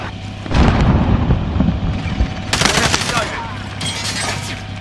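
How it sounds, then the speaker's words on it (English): Precision airstrike in Call of Duty: Warzone: heavy rumbling blasts and crackling bursts in waves over several seconds, loud and booming over a steady low hum, with faint radio chatter beneath. "Allied precision airstrike incoming"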